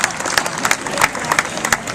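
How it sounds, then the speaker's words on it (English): Audience applause for a volunteer at a hypnosis show, a dense patter of many hands clapping at moderate distance with a few brighter claps, steady and sustained throughout. "Let's have a round of applause for that fantastic volunteer."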